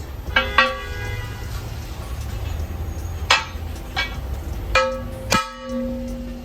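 A replica aftermarket alloy car wheel rim is struck several times, each hit giving a bright ringing clang that decays, spaced irregularly over a low background hum.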